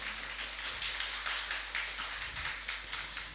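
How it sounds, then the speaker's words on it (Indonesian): Applause and clapping from graduates and guests at a university agriculture faculty graduation ceremony, a steady dense patter of many hands lasting throughout, moderately loud and without talk. "Tepuk tangan ya buat semuanya."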